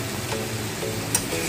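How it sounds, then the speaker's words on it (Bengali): Shrimp sautéing in a pan for a Bengali jackfruit prawn curry, a steady soft sizzle with faint stirring scrapes and one brief clink, close and continuous with no voices. "চিংড়িটা 2 মিনিট ধরে কষানো হয়।"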